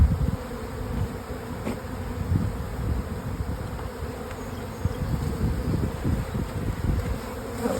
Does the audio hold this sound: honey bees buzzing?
yes